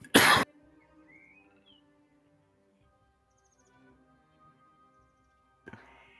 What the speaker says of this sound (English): It's allergies give me such a nasty cough sometimes.